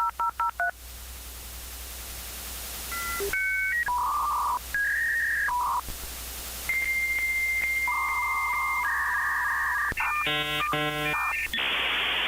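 A 56K dial-up modem dials a string of tones, then launches into its handshake of steady pitched whines and warbling, shifting screeches, loud and continuous, with a final burst of rapid stepped chirps.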